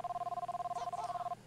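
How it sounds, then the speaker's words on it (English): Steady electronic telephone ring in the Pingu video game, a pulsing two-tone trill repeating evenly for over a second before cutting off, fairly faint with soft game sounds behind. "Well, that's a phone."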